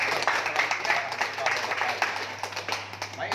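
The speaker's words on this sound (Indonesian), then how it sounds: "Iya, tepuk tangan." An audience at a school gathering claps briefly, a steady patter of hands under a low electrical hum, with faint voices mixed in.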